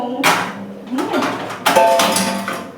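A metal pot rattles and clanks against its stand on a roughly 40-year-old stove in a few loud, uneven bursts, close by, with no talking.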